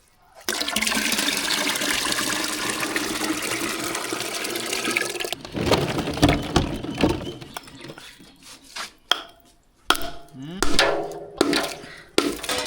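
Iced buttermilk is poured and stirred together with ground spices in a vessel, first as a long rushing pour of liquid, then as uneven sloshing, clinking stirring strokes close by.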